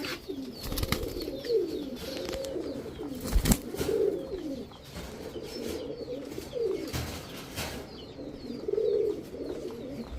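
Giribaz high-flyer pigeons, several pairs including maxi and napta birds, coo in repeated low rolling phrases close by, with brief rustles and bumps between calls.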